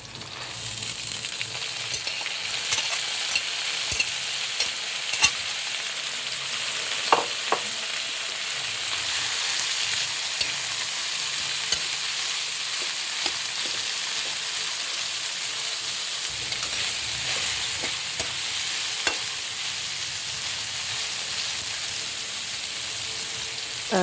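Mung beans tipped into a hot pan of sautéed Filipino ginisang monggo with chicharon and malunggay, giving a steady loud sizzle with intermittent scraping stirs and small clicks, no voices.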